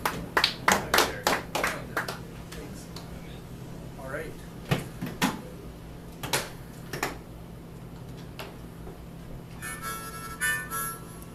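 An audience claps and cheers for a performer at a live music show, with bursts of applause that fade and resurge, some shouts and scattered noises amid the crowd.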